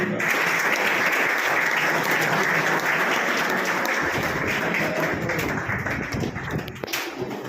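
Loud audience applause at a classroom function, dense steady clapping close to the microphone that carries on for several seconds before tapering slightly.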